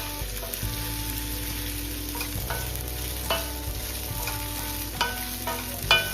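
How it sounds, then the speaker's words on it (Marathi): Soaked sabudana and crushed peanuts are stirred in a pan over a high gas flame, giving a steady close sizzle with scraping spoon strokes and occasional clinks against the pan. "आता ह्याला हाय फ्लेम वरती आपण मिक्स करून घेणार आहोत"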